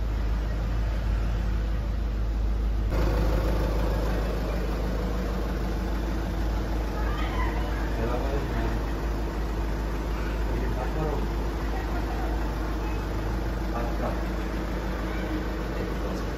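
A Volkswagen Passat 2.0 TDI diesel engine idles smoothly after turbo repair, a steady low rumble held evenly for the whole stretch, close by in a workshop.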